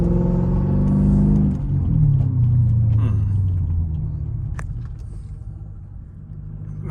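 A Mercedes SL500 V8 with an ABC coilover setup revs hard from inside the cabin, a loud deep engine rumble that rises and falls as the throttle opens and eases.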